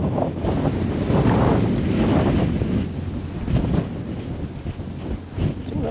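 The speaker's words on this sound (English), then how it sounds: "I think that wind's going to be in our face virtually all the way there." Strong wind gusts roaring across open water on the Norfolk Broads in January, buffeting the microphone with a continuous loud rumble that surges and eases, with faint lapping of small waves beneath.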